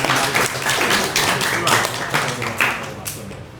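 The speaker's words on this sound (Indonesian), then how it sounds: "Tepuk tangan untuk kita semuanya." Applause from a gathering at the close of an Islamic talk, a loud, dense wash of clapping that runs steadily with a voice heard over it.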